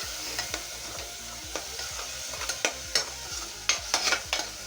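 Masala with a splash of water stir-fried in a pan for a homemade eggplant curry, with a steady sizzle under repeated spoon scrapes and clicks against the pan, close and moderately loud, with no talking.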